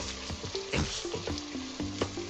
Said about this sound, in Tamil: இந்த வெங்காயம் அரைவாசிக்கு வதங்கி கொண்டு இருக்குது